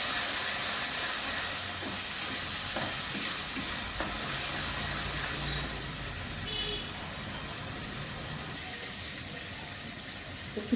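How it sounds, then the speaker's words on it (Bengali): Spice paste with dry chili powder and green chilies frying in a pan for a rohu fish masala curry, stirred steadily: a constant close sizzle with soft scraping strokes and no talking. "এবার মশলাটা আমি ভালো করে কষিয়ে নেব।"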